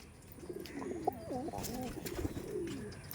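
Giribaz pigeons coo in soft, repeated rolling calls over a steady background hum, fairly close, with a few faint clicks and knocks.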